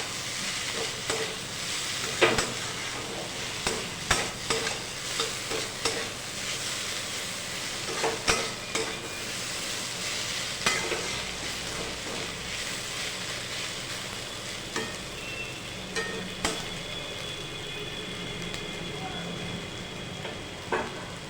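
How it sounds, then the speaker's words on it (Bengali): Poppy seed paste being stirred together with bottle gourd peel in a hot pan, a steady sizzle and hiss running throughout with repeated scraping spatula strokes at close range. "এবার পোস্তটা লাউ খোসার সাথে ভালোভাবে মিশিয়ে নিন।"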